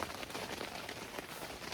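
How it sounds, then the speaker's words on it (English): Heavy rain drumming on a leaking tent during turkey season, a dense continuous patter that is fairly faint and steady, with no voices. "It's been raining for a good 30 minutes now, pretty heavy, and the tent has some leaks"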